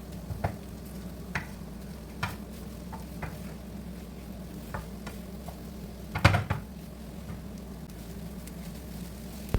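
A low, steady sizzle from a pan of food roasting in oil with curry leaves runs throughout, broken by occasional light scraping taps of a utensil stirring.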